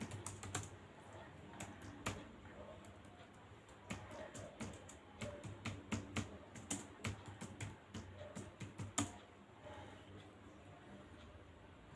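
Quick clattering keystrokes on a computer keyboard while order details are entered, irregular bursts of close, faint taps over a low background hum.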